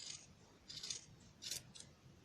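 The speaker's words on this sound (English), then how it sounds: "take some real sharp scissors and just cut through all the yarns" Sharp scissors snip through a thick bundle of yarn while a crocheted pom-pom is made, giving three or four crisp, close cutting bursts in quick succession with no talking.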